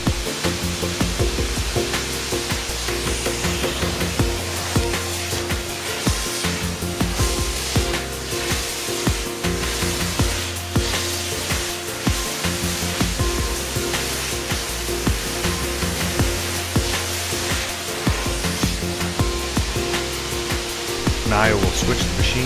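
A touchless truck wash machine from a two-step system sprays rinse water in a steady, loud, hissing rush with mechanical hum, continuing for over twenty seconds, while a voice speaks faintly beneath it.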